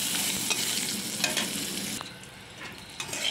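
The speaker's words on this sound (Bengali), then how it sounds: "বেগুনটা একটু ভেজে নিই" Salted brinjal slices frying in oil in a wok, a loud close sizzle with repeated scraping stirs, easing slightly toward the end before a final stir.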